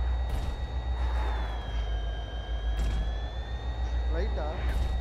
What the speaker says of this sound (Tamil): வண்டி சவுண்ட் ஏதோ கேக்குது ரைட் சைடு.